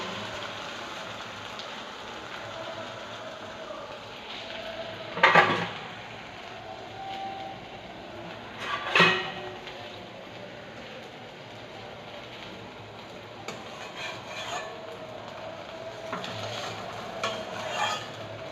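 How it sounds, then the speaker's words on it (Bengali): Small fritters of whisked batter frying in hot oil in a wok give off a steady soft sizzle, with two sharper, louder bursts partway through and no talking. "কড়াইতে তেল গরম করতে দেওয়া আছে, এবার দেখি ছোট ছোট করে ভেজে নিই কেমন হয়।"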